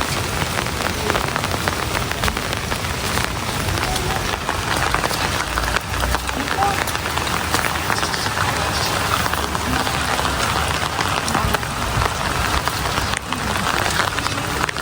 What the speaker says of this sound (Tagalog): Ikaw maliligo sa ulan, Teo?